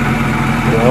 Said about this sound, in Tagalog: Stock pipe po yan. Pero, ang lakas humugong ng makina.